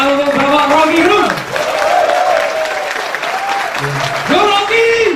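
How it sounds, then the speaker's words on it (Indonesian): Audience applause for Rocky Gerung at a live evening lecture event, broad crowd clapping mixed with loud cheering voices and a prominent tonal sound, sustained at high level throughout. "tepuk tangan untuk Bapak Rocky Gerung"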